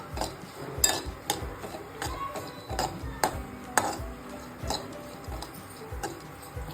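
Dry fruits such as pistachios, walnuts and figs stirred and roasted in a metal pan, with repeated sharp clinks and scrapes of a spoon against the pan in an irregular rhythm, close and fairly clear.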